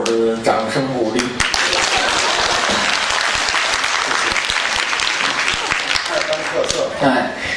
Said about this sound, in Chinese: 感谢大伙儿的掌声鼓励